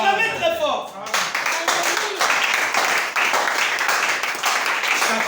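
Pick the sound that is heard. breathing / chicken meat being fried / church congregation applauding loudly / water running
church congregation applauding loudly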